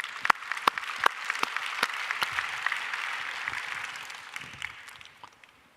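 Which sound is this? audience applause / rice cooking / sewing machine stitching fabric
audience applause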